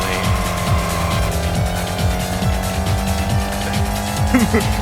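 Engine of a car driven in the racing video game Racing Lagoon, a steady mid-pitched drone with repeated rising gear-shift sweeps, continuous and fairly loud throughout, with a brief tire squeal near the end.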